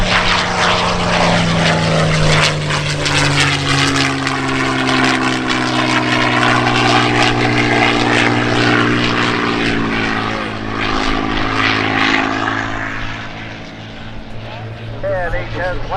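A propeller airplane takes off at the Spirit of St. Louis Airshow, its loud, continuous droning engine holding steady throughout, with voices talking over it.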